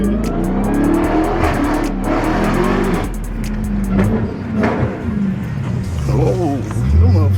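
A 2019 Dodge Charger Hellcat accelerates hard through first and second gear, its deep engine roar rising and swelling loudly under people talking inside the car.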